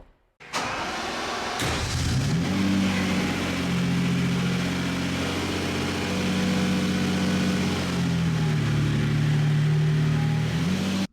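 A Lamborghini Diablo engine starts moving off, a loud steady mid-pitched engine drone that holds for about ten seconds with gentle rises and dips, no talking over it.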